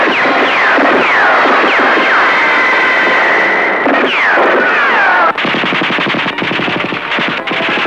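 Rapid bursts of machine-gun fire in a 1990 Pakistani film rattle loudly and continuously, with whistling, swooping tones overhead, then tighter, sharper volleys near the end.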